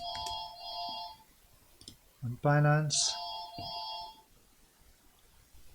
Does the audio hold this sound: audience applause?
no